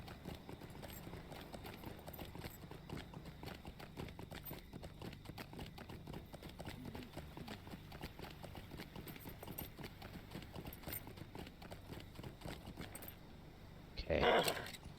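Horse hooves clip-clop steadily in the video game LOTRO, a quick, even trotting rhythm heard up close throughout, with a brief louder rustle near the end.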